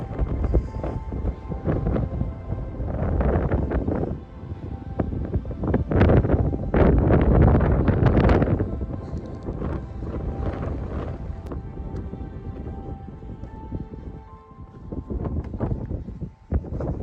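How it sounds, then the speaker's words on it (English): Strong wind gusting across an open mountain pass on the Wilcox Pass hike in Jasper National Park, buffeting the microphone in loud, rough surges that peak in the middle and ease off before swelling again. "Windy up here"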